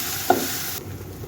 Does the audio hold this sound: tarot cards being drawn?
no